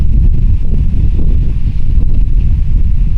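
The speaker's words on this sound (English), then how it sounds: "hear that wind? It's just crazy today." Strong, cold wind buffets the microphone outdoors in loud, gusty roaring bursts, rumbling low and unbroken with no voices.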